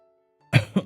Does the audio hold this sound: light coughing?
yes